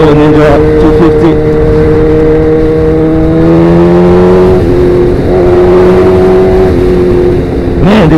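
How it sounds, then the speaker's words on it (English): A sportbike fitted with a Danmoto XG-1 exhaust revs loud and close, its engine tone rising and falling through several throttle blips with a strong, steady roar and no talking. "Man, this bike is a monster, especially with that pipe."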